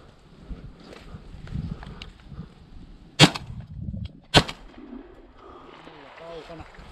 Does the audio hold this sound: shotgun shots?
yes